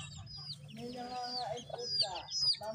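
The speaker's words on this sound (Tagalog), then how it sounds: "Dito pala ang daming sisiw." Baby chicks in a rural province pen chirp with high, rapid peeps over low clucking from nearby chickens, close and intermittent across a few seconds with faint talk underneath.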